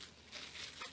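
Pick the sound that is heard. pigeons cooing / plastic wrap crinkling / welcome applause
plastic wrap crinkling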